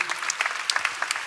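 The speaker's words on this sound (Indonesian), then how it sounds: "Beri tepuk tangan yang meriah." Short burst of applause from a church congregation during a sermon, scattered claps rising and falling in uneven bursts at moderate distance, with no speech over it.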